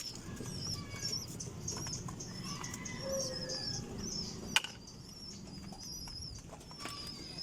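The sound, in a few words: pigeons flapping wings while being fed and watered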